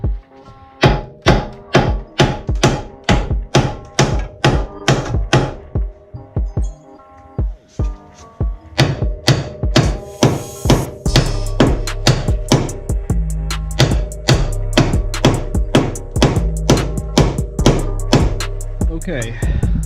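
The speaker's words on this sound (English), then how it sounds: "If you hit right here on the ball joint, not the ball joint itself, but the little nub that sticks out, it'll pop up" Hammer blows on the protruding nub of a steering knuckle to pop a ball joint loose on a 1991 Honda Civic Wagon RT4WD, a long series of sharp metallic strikes in steady bursts, close and loud.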